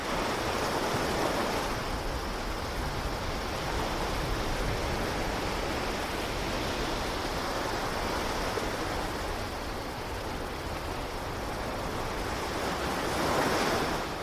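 Ocean waves wash against the rugged rocky cliffs of Rosario Beach, making a dense, continuous roar of surf with wind. The sound stays loud and unbroken throughout, and no voices can be heard.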